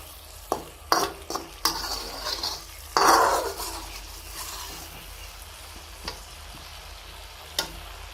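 Potatoes and spices for aloo pulao fry over medium heat in a pan, a low steady sizzle broken by several sharp clinks and scrapes of a spoon stirring, then a quieter stretch with occasional taps.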